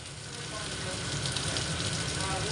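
Turmeric goes into hot oil for a sour fish curry of morola fish and green mango, and the pan gives a steady, close crackling sizzle throughout with no break.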